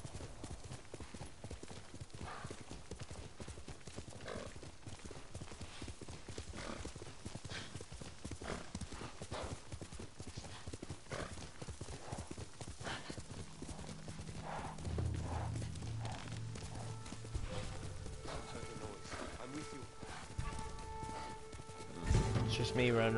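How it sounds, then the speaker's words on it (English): Horse hooves clip-clop steadily throughout as a rider travels in the Ghost of Tsushima video game, with game music and ambience beneath and a short neigh near the end. "It's just me running around on my horse."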